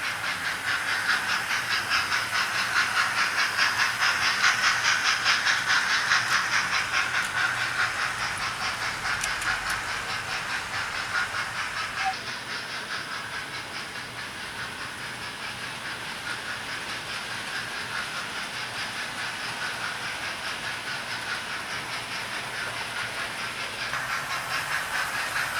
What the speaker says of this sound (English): She's doing very nicely, chuffing quietly along.